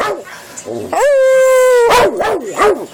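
A Puggle lets out a short, drawn-out howl between quick barks and yips, close and loud.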